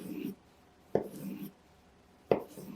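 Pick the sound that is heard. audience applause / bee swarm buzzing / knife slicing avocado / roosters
knife slicing avocado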